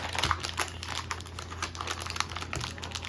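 Butcher wrapping paper being folded around pork chops cut from a store-bought tenderloin, close crinkling and rustling with quick taps and creases, irregular and fairly quiet.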